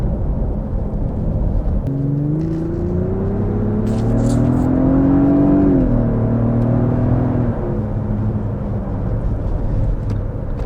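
A 2025 Lexus GX550 Overtrail+ SUV pulls away briskly, its engine note rising smoothly from inside the cabin, easing off after a few seconds, with a steady road rumble throughout.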